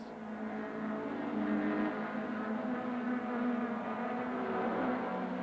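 Touring cars racing at Kyalami in the 1994 South African championship, a Toyota among them, with a steady loud engine drone and shifting pitch as several cars run close together through a corner.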